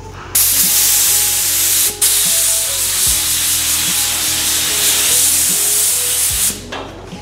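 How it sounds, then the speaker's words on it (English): An aerosol spray can is sprayed onto a door handle, giving one loud, steady, close hiss that lasts about six seconds and then cuts off, with faint tonal sounds in the background. "I'm just gonna spray it real quick."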